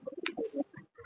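Pigeons in a loft give short soft coos and low burbling calls, close and clear, with a brief sharp sound partway through.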